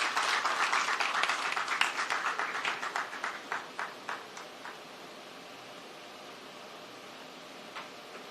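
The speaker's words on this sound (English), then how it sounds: "we welcome our inspiring guest with a big round of applause" An audience at a cancer care awareness endowment program claps to welcome a guest, a dense burst of applause that thins into scattered individual claps and fades out within about five seconds.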